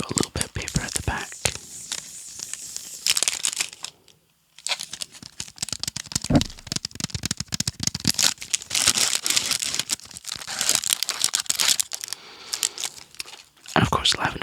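Paper backing on a lavender wax melt crinkles and crackles in close, crisp bursts, handled intermittently while a soft, whispery voice talks throughout.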